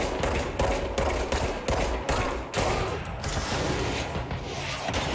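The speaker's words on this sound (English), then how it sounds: "Oh, you are launching rockets at me." Rockets launched at the player in the video game Control, a rapid barrage of close, loud blasts and bursts hammering one after another, with little pause between impacts and no voice over them.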